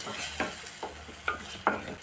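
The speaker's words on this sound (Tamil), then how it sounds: "அப்படியே நல்லா கிளறி விடுங்க" Egg is stirred in a hot pan for egg masala rice: four or five close scraping strokes in a steady rhythm over a soft, continuous background sizzle.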